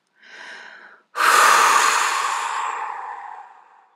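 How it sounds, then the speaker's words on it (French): A short inhale is followed by a long, deep exhalation blown out through the mouth during a relaxation breathing exercise, a close breathy rush that starts strong and slowly fades over several seconds. "Expiration par la bouche, on souffle tout le négatif accumulé les jours précédents."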